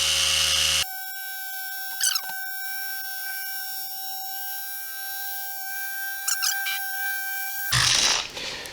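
Adam's Polishes cordless micro polisher with a 12mm throw, bogging down under load: a steady high electric whine with two brief pitch sags as pressure is applied, still spinning throughout.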